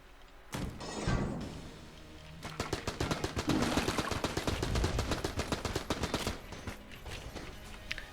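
Thompson submachine gun fired in the video game Enter the Gungeon: a sustained rapid automatic burst of dense, evenly spaced loud shots that runs several seconds after a few initial thumps.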